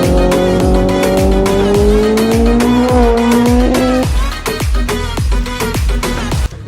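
A loud Kawasaki Ninja ZX-10R sport motorcycle races on a mountain road, its engine screaming at high revs with a steadily climbing pitch, then dropping and revving again, with no voices.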